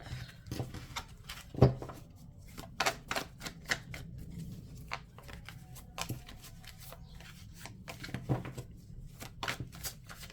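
Tarot cards are shuffled and handled at close range, producing quiet, irregular riffling flutters and sharp slaps and clicks, with short pauses between bursts.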